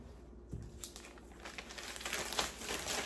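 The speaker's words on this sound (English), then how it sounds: "So it's like a tri-fold. And then we're just going to slide it, fold it" A paper mailer is folded into a tri-fold and slid into place, giving soft crinkling and papery rustling with a few light creases and brushes. The handling is close but quiet, with no talk heard.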